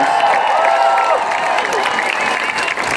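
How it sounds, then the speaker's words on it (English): A rally crowd applauding and cheering for ASL interpreters, a dense, loud wash of clapping with scattered whoops, sustained throughout and close around the listener. "Everyone give them a round of applause."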